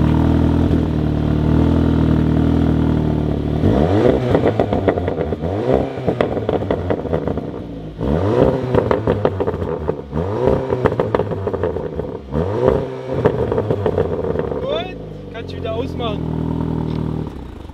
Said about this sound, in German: Ballert er auch im Stand mit Schubknallen?